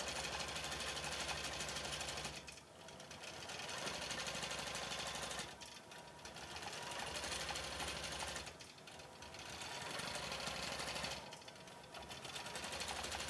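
Sewing machine stitching an applique pattern, rapid mechanical chattering in four long bursts separated by short pauses, close and steady, with no talk over it.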